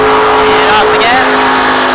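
Race car engine in-car during a 2017 event, loud and steady, droning as the driver lifts off the throttle, with a pitch dip and engine note shifting partway through; a voice talks over it.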